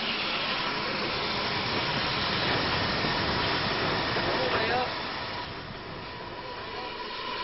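A visiting Standard Class 4 steam locomotive on loan from the East Somerset Railway gives a steady, continuous rumble of moving train noise, moderately loud, easing slightly toward the end.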